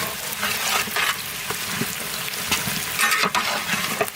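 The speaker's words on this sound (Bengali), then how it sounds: "তো ঢেলে দেবো পেঁয়াজ পেঁয়াজ।" Onions poured into hot oil and frying, a loud close sizzle with crackling bursts and stirring scrapes, no voices.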